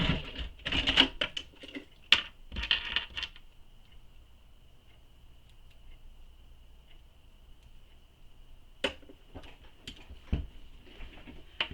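A sewing machine stitches a mini messenger bag close to its metal hardware in short rattling bursts, then falls quiet apart from a faint steady hum before a few more brief runs.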